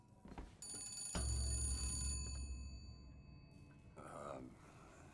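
A telephone rings in the video game BioShock Infinite, a bright, sustained bell tone lasting under two seconds over low game rumble, followed by quieter ambience and a faint voice.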